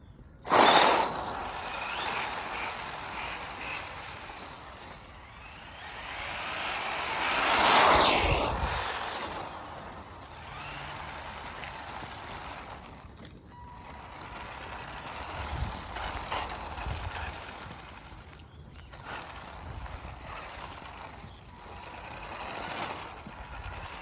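A vintage Tamiya Terra Scorcher RC car with a stock 540 silver-can motor driving around, its steady electric whine rising and fading as it moves near and away, with louder passes and no talk.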